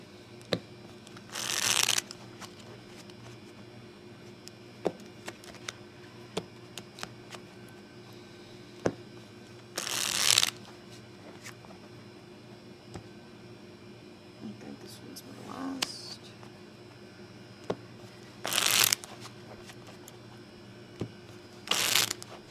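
A shoe of playing cards for blackjack riffles in several short, crisp bursts spaced seconds apart, with soft clicks and handling noises in between in a quiet room.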